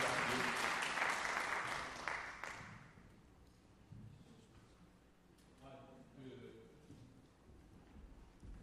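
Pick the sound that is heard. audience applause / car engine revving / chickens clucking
audience applause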